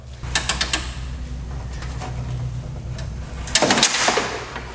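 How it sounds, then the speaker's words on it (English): Ratchet turning a short 10mm socket against a seized bolt on a 2012 Subaru Forester during AC work, a few sharp clicks early, then a grinding mechanical rasp and a louder clattering burst near the end, close up. "I'm just using a standard ratchet with a short 10mm socket to break loose the bolt"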